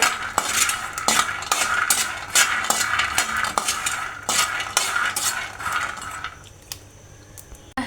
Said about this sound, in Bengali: এখানে আমি কাঠবাদাম আর চীনা বাদামটা ভেজে নিচ্ছি